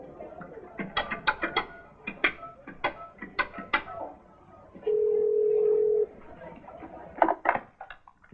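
A telephone handset gives a steady dial tone for about a second while someone prepares to make a call, with other voices and bird-like cooing sounds heard before and after it.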